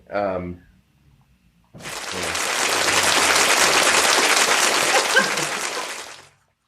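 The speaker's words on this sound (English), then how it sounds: "Just applause." A short voice is followed by a pause, then a burst of crowd applause swells in and holds as a dense, loud wash of many clapping hands for about five seconds before cutting off abruptly.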